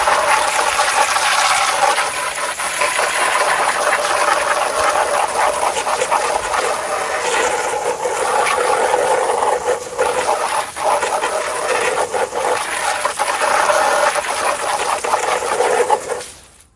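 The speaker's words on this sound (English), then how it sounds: "So let's go ahead and spray off the Lasfit floor mat." A hose sprays water steadily onto a Lasfit car floor mat, giving a continuous loud hissing wash with small fluctuations that stops near the end.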